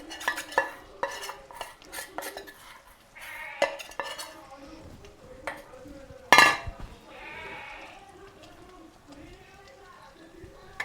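Besan being stirred into hot sugar syrup for Mysore pak in a home kitchen pan, giving soft scraping and clinking sounds that come and go, with a sharp metallic clatter partway through and someone speaking intermittently.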